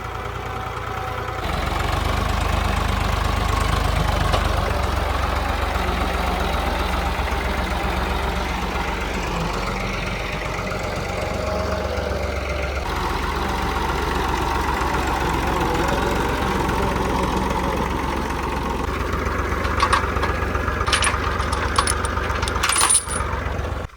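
A tractor engine, push-started the day before, runs steadily and close by in a farm field, its loud, knocking idle continuing throughout, with a few metallic clinks near the end.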